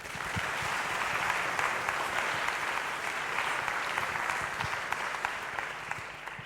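An audience applauds steadily throughout at a science awards ceremony, a dense, sustained wash of clapping at fairly even volume with no voices over it.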